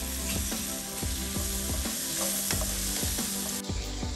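Eggplant frying in a pan with asafoetida and turmeric, a steady close sizzle broken by regular scraping stir strokes about every half second, with no voices.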